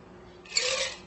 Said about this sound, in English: strain into a chilled cocktail glass that has been spritzed with a hint of dry vermouth